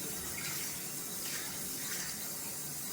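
Running water pours steadily from a tap as a dense-knot shaving brush is rinsed clean of lather, a soft, even gush at low volume with slight swells and no voices.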